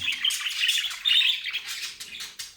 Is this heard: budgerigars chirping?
yes